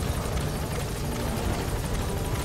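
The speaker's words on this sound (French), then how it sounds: "Allez, l'hélico, dépêche-toi d'atterrir." Helicopter hovering and descending to land in Metal Gear Solid V: The Phantom Pain, a loud, steady rotor roar with dense broadband wash and rhythmic blade chop throughout, no voices.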